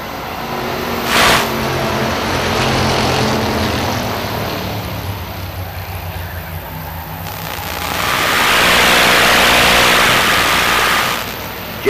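Race cars pull away on a road course after the green flag, with engines droning steadily and then swelling into a loud, close pass before fading.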